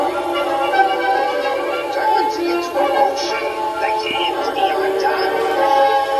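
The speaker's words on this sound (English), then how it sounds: "It is a witch. It does talk." A talking witch Halloween decoration from Michaels sounds off with a steady, busy electronic voice-and-effects track, fairly loud and continuous throughout, with layered tones and chimes rather than plain live talk.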